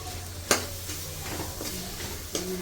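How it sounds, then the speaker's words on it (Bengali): Dried whole peas tipped into sizzling fried spice masala, a continuous low sizzle with a couple of sharp clinks and stirring scrapes. "এই যে দিলাম মটর, খাড়া মটর"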